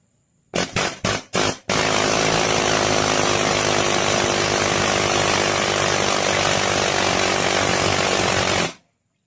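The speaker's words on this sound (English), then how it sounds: "take an air chisel and see if we can work it out" An air chisel hammers on a Muncie SM465 manual four-speed transmission, firing in four quick bursts and then in one long, loud, close run of rapid pneumatic rattling before cutting off.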